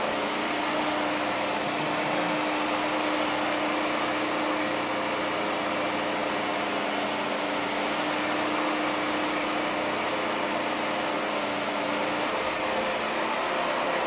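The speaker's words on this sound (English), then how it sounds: "There's a mark I'm trying to get off the floor with the steam mode." A Bissell Crosswave HydroSteam running in steam mode while mopping a mark off a floor gives a loud, steady motor whine and airy hiss that hold unbroken and close throughout.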